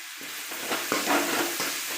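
Tomatoes sautéing in a pan for red aval upma, a bright close sizzle broken by a few scraping strokes of a spoon over two seconds, with nobody talking.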